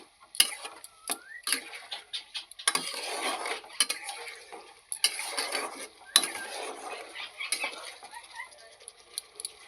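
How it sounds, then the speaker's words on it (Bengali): Spice paste being stirred and fried in a pan for a fish and cauliflower curry, heard as quiet, irregular scraping and clinking strokes of a spoon against metal with short pauses between them, and no voices. "একটু আস্তে আস্তে কষানো হোক মশলাটা ভাজা হয়ে নিক"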